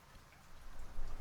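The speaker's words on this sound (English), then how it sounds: "The sound changes instantly from a wet patter to a deep thrumming on the roof above you, a protective sound." Rain pattering on the roof of a cabin porch, a steady, soft hiss of drops that swells slightly toward the end, with no voices.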